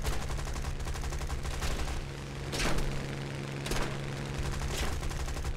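In the War Thunder combat flight game, dense rapid gunfire rattles against an aircraft over a constant engine drone, loud and close, with a few sharper bursts standing out.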